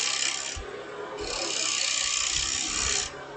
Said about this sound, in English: I'm using a 5 or a 1/2 inch bowl gouge here